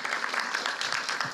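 Church congregation applauding to encourage a person about to give a testimony, a brief, soft patter of many hands clapping at a distance.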